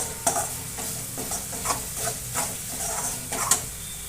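Ginger-garlic paste stirred into frying capsicum curry gives a close, continuous sizzle, with a spoon scraping the pan in a loose rhythm and a few sharper knocks.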